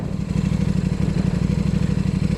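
A KTM RC8 sport motorcycle engine runs with a deep, rapid, pulsing throb, loud and close, steady throughout with a faint mechanical clatter on top.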